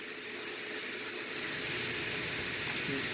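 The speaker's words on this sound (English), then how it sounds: "stand them on edge and roll them around to get them a good little sear around the outside edge" Squash pieces searing in a hot pan give a steady, fairly quiet broadband sizzle and hiss that holds evenly throughout with no voices.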